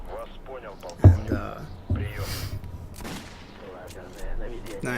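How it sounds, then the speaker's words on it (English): A gunshot fired at a demon in a survival-mode video game chapter set in a tower, one sharp loud report near the start followed by a second softer shot, with someone talking over the game sounds. "I just decided to put another shot into the demon for the hell of it."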